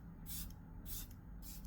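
Charlotte Tilbury setting spray is misted from a small travel bottle in three quick, soft hissing bursts, evenly spaced and close but faint.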